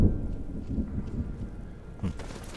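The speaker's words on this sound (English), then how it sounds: "Listen to the storm." A thunderstorm heard from deep underground in a game rumbles low and muffled, with rolling thunder and steady rain, one heavier thunder crack near the end and no talk.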